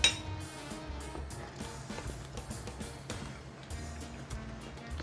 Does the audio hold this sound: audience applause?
no